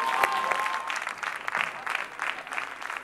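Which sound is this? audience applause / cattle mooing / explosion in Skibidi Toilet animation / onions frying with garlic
audience applause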